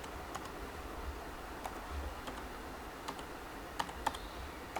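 Typing on the keyboard of an M1 MacBook Pro during a password reset in Terminal: a sparse, irregular run of soft, close key clicks, with a few sharper taps toward the end and no talking.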